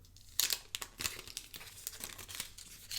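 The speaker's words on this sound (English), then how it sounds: "The charger itself is wrapped in this recyclable paper." Recyclable paper wrapped around an iPad charger is pulled open up close, making quick crinkles and tearing rustles in uneven bursts against a quiet background.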